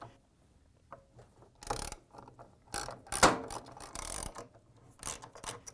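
A ratchet loosening the three 13mm bolts of the rear counterweight on a Whirlpool, KitchenAid or Maytag washer, heard as close, fast clicking bursts with short pauses between them.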